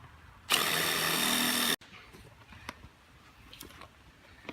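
A power drill drives a screw into wood fitted around plastic, a single loud whirring burst of a little over a second that stops abruptly, followed by quiet knocks and handling noises.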